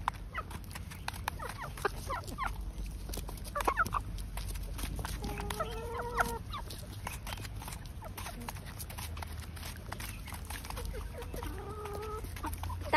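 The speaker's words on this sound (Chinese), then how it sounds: "大公鸡还挺疼爱小母鸡的，它啄了之后它自己不吃，往地上吐，让小母鸡来地上吃。" A rooster and a hen pecking at a whole apple, with soft clucks and calls from the fowl now and then over a steady low outdoor background, plus faint tapping pecks.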